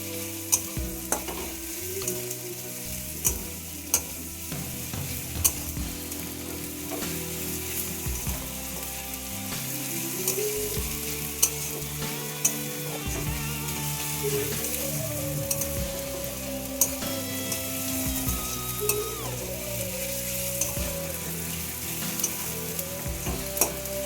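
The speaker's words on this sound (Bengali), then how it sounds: "পেঁয়াজটা আমার ভাজা হয়ে নরম হয়ে এসছে।" Onions fry in a pan with a continuous close sizzle and crackle, while a utensil stirs and scrapes through them at intervals.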